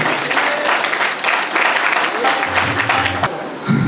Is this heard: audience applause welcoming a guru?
yes